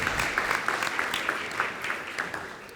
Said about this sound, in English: Let's actually also just give the faculty and staff a round of applause for all they did to help get you here.